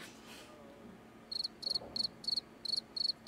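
A cricket in The Sims chirps in a steady series of about seven short pulsed bursts, clear and close, with nothing else competing.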